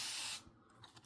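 A spray bottle mists an isopod enclosure in one short, fairly faint hissing burst, followed by a few small mechanical clicks of the trigger.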